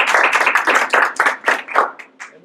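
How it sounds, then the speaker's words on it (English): A small round of hand claps, about a dozen crisp, close strikes in a loose steady rhythm that slow and thin out, ending with a few softer final claps. "rather expected a little applause there."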